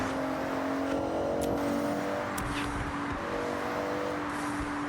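Turbocharged race car engine in the video game Forza Horizon 6, a steady loud drone with sustained whirring tones and brief high whistling bursts, no talk over it.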